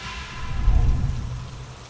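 Heavy rain falling in a steady rush, swelling briefly with a low rumble before easing, heard alone without voices.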